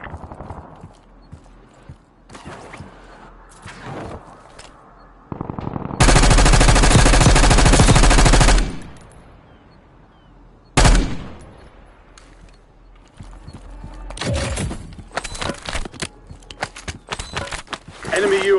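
Gunfire in a Warzone Battle Royale match on Rebirth Island: a long, loud automatic burst, then a short sharp volley and scattered shots amid game sounds, with a game voice speaking.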